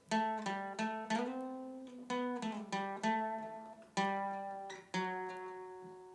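Electric or acoustic guitar plays the fourth section of a solo alone: a short melodic phrase of about ten plucked notes with clear attacks and ringing harmonics, played slowly with brief gaps, close and moderately loud.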